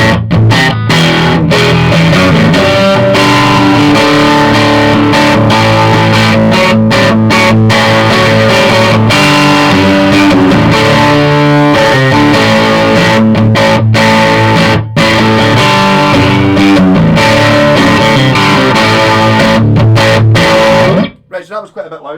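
Electric guitar through a Sovtek Mig 60 valve amp cranked louder than studio volume, loud driven chords and riffs ringing continuously for about twenty seconds, cutting off abruptly near the end, with no voice over the playing.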